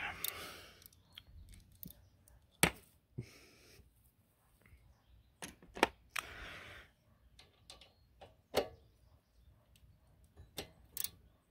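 Ratchet with a 12 mm socket working a bolt loose on a Honda TRX300EX, sharp dry clicks and ticks arriving in scattered bursts at close range, separated by quiet pauses.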